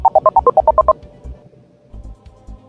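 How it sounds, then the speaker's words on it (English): A telephone being dialed: a quick run of about nine loud touch-tone beeps in even rhythm, followed by quieter line clicks and faint ringing tones. "we're getting Bonnie Benson dialed up here"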